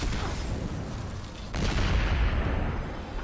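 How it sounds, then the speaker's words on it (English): Explosion in the video game Destiny 2, a dense, roaring blast of noise that swells into a heavier, deeper rumble partway through and stays loud to the end, with no voices over it. "So, the explosion is too powerful, Trapper."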